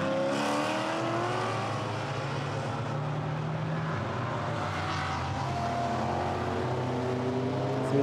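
GT4 race cars lapping the Misano circuit in the final race of the GT4 European Series season, engines droning steadily through the final corner with shifting pitch sweeps and gear changes, a continuous distant roar with no talk.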